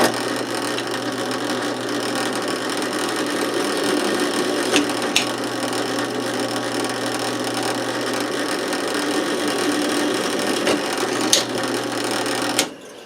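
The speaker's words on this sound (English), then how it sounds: "Let's go over to the drill press." A drill press bores holes in steel for homemade heavy-duty coat hooks, a continuous close mechanical whir and grind with a steady motor hum and occasional sharp clicks, then stopping abruptly at the end.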